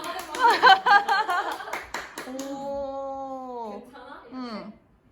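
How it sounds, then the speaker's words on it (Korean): Quick bursts of hand clapping mixed with laughter and excited voices at a wedding dress fitting, then the clapping fades and someone speaks in a drawn-out, sing-song tone. "빨리 박수 쳐줘"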